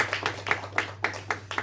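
Church congregation clapping for a visiting missionary during a Sunday worship service, a handful of distinct, sparse claps spread over a moment over a steady low hum.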